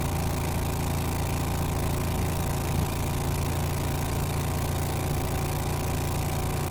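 Renault car fitted with a Predator 670 lawnmower engine and new exhaust accelerates, giving a steady, loud, buzzing engine drone with constant rumble and no pauses.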